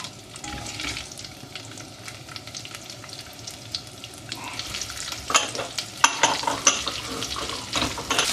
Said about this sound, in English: Once that starts to sizzle, we'll put in the garlic and the ginger.